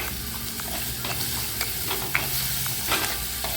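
Something stirred and sautéed with turmeric powder and salt in a pan for a prawn milk curry, a steady close sizzle broken by a few scraping knocks of the spoon, no voices.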